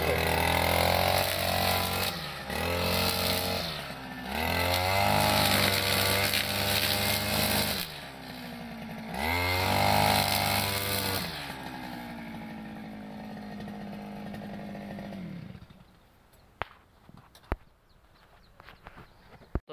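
Gas-powered grass cutter engine running close and loud, revving up and down in repeated surges, then dropping to idle and cutting off, leaving a quiet outdoor background with a few knocks.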